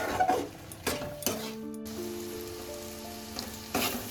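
Lote fish jhuro being stirred and dried out in a pan: a soft continuous sizzle broken by repeated scraping strokes of a spatula and light metallic clinks, with a quiet humming tone in the middle.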